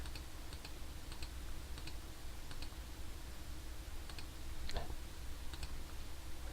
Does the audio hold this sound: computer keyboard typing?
yes